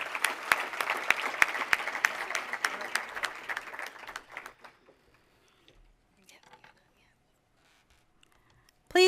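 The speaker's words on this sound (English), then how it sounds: "Please give another round of applause for all of our graduates this evening" An audience at an evening graduation celebration claps in a loud, dense burst for about four and a half seconds, then the applause fades out, leaving near quiet with small scattered noises.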